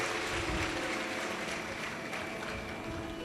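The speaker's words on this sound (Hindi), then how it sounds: "एक बार जोरदार ताली बजाकर यजमान परिवार को साधुवाद है" Steady, dense applause from a large audience at a Shiv Mahapuran religious discourse in Raipur, Chhattisgarh, praising the host family; continuous and even throughout, with some crowd murmur underneath.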